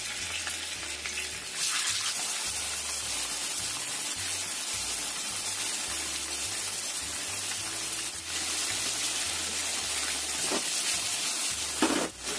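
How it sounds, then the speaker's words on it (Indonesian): Tofu pieces fry in a nonstick pan, a steady close crackling sizzle of hot oil with a constant low hum underneath and a few brief clatters. "Kita goreng tahunya."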